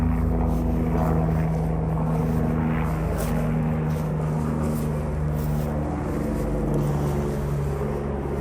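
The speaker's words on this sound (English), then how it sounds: "And sorry for the overhead helicopter." Helicopter flies overhead near a parked car in an outdoor setting, giving a steady, loud low rotor drone with a constant hum and no talking.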